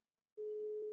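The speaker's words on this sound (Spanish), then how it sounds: "Me está entrando una llamada que la cojo ahora." An incoming call on a softphone used with a virtual PBX tests a line with a steady electronic ring tone that starts abruptly after a short silence and holds one unbroken pitch to the end.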